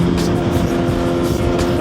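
Trucks rumbling past a rider on a Suzuki GSX-R1000 motorcycle, a steady loud roar of engines and wind with a droning tone throughout, close and continuous.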